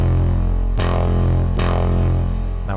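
A Diva software synth patch with drive added plays a thick, growly sustained tone, re-struck in three even notes, loud and steady with dense harmonics.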